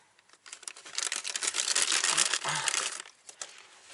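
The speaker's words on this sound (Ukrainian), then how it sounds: "Бачите, розпаковую при вас." Crinkly plastic bag rustling and tearing open close by as a carburetor for a Stihl FS 55 trimmer is unpacked, a dense burst of crackling lasting a few seconds with no talking.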